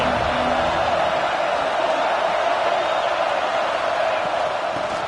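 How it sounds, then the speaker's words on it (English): A stadium crowd in a football video game roars steadily at a loud, sustained level, a broad wash of cheering that holds without a break under faint commentary. "This crowd bringing the energy and noise early."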